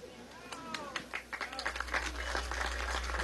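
Audience applause at an international congress visited by a president, a brief burst of scattered claps and cheering voices over a low hum, fairly faint and uneven.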